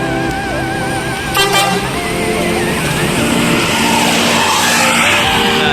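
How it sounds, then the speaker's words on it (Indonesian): An ANS Executive Class bus pulls out of Bukit Sulungan bus terminal, its loud engine droning steadily throughout with a brief horn-like tone early on amid busy terminal noise. "ada unit bus ANS Executive Class yang baru datang dan segera meninggalkan Terminal Bukit Sulungan"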